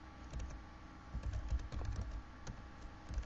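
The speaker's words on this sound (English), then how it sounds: "I'm going to type in my email address." A name and email address are typed on a computer keyboard in quiet, irregular bursts of soft key clicks with short pauses between them.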